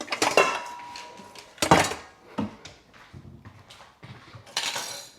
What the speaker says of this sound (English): so we grab the largest bowl